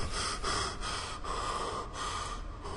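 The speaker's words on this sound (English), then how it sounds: "stop your panting" A character in the sci-fi video game Stasis pants heavily in quick, rhythmic gasping breaths, close and fairly faint, repeating several times without any talk.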